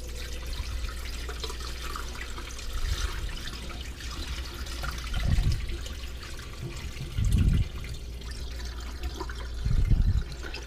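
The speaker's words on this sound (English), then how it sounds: "we're just going to pour the remainder out" Leftover rotifer culture water poured out of a container while culturing rotifers for clownfish breeding, heard as a steady trickle with a few louder gushing surges, close and alone.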